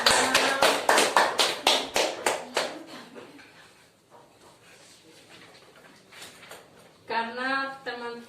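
Schoolchildren in a classroom clap in a sharp, rhythmic pattern of about a dozen close beats, which then fade into quieter murmuring before a voice speaks at the end.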